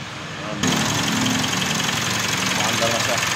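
A 2018 Mitsubishi Montero Sport diesel engine kicks on and settles into a steady, loud idle with a faint knocking rumble, after intake manifold, EGR and turbo cleaning, with a person speaking nearby.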